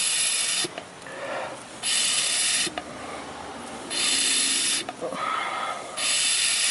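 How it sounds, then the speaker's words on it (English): A Mighty Vac vacuum pump draws differential fluid from a Mercedes E500 W211 4Matic front differential through a hose, giving loud bursts of hissing suction that alternate with quieter gurgling stretches. "snaking through the silly straw, all the way through, up the hose, and look, it's almost making it into the Mighty Vac itself"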